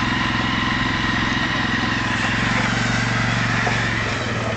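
A Volvo T31 tractor engine runs steadily, a loud, close, continuous chugging drone with an even rhythmic pulse throughout and no pauses.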